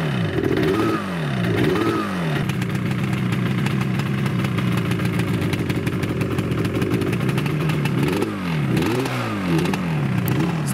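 Yamaha-style RD 400 cafe racer two-stroke motorcycle on a cautious test ride after extra oil was added, its engine droning steadily at close range with rising and falling revs at the start and end, loud and continuous with no talking.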